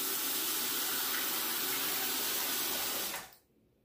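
Tap water runs steadily into a sink to wet a shaving brush, a close, even hissing gush that stops abruptly near the end, leaving near silence.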